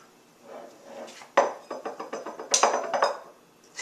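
Bowl lifted out and handled among other dishes in a home kitchen while preparing a wild rice salad with roasted grapes, onions and mixed greens: a loud ceramic clunk followed by a rapid series of close clinks and knocks, with no talking.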